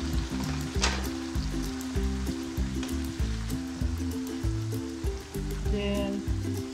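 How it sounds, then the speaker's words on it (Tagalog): Hot water poured into a hot pan of pork for pancit bihon, sending up a loud, continuous sizzle and bubbling hiss that stays close and steady throughout. "Lalagyan natin ng mga isang basong tubig."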